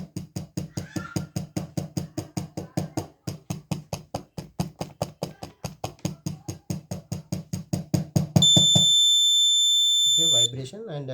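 A multi-hazard early warning system alarm, triggered by vibration, beeps rapidly in a steady pulsing rhythm for several seconds, then changes to a continuous high tone, followed by a brief voice.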